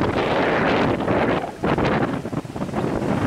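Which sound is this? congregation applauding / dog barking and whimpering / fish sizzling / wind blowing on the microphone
wind blowing on the microphone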